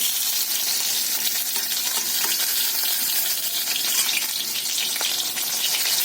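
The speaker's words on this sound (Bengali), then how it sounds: "দেখো আমি তেল দিয়া দিয়েছি আমার এতগুলো মাছ ভাজা হয়ে গেছে তেলে ভাজা হয়েও এই তেল আছে" A batch of fish frying in hot oil, crackling and sizzling steadily at close range, with faint stirring noises and no voices.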